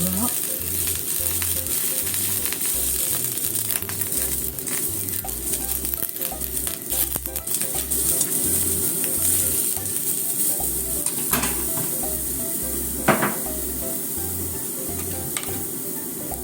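Eggplant sizzles steadily in a frying pan, a constant crackling hiss with occasional sharper spatters and light utensil clinks throughout.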